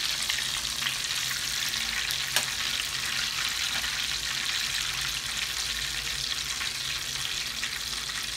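Crunchy chilli cheese bites frying in oil over a high flame, an even, dense crackling sizzle running steadily throughout, with one faint clink and nobody speaking.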